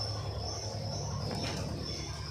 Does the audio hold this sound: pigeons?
yes